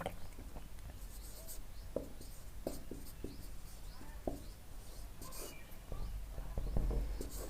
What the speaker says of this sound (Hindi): तो यहीं पे हम नीचे लिख दे रहे हैं विस्थापन